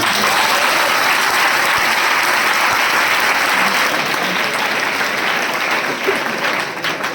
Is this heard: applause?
yes